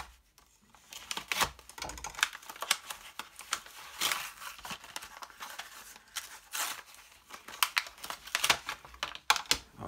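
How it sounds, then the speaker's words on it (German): A knife slices into the plastic packaging of a magazine bundled with a toy game shooter, giving close, irregular crinkling and sharp clicking bursts of cutting and tearing plastic with no voices. "Natürlich nicht nachmachen, einfach so mit Messer reinschneiden."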